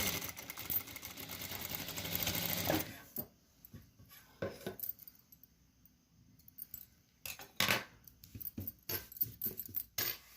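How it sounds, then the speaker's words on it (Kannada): A sewing machine stitches a quarter-inch seam in a short, fairly quiet burst at the start, then stops, followed by faint handling clicks and brief bursts of stitching later on. "ಈ ಸಲ 1/4 ಇಂಚು ಹೊಲಿಗೆ ಹಾಕ್ಬಿಡೋಣ"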